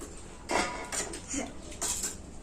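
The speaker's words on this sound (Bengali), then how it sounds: "লেবুটা প্রথমে পরিষ্কার করে ধুয়ে নিয়েছি, এবারে কাটবো।" A knife clinks and taps against a plate and board as a washed lemon is cut, giving a few short separate knocks at moderate level with no talk.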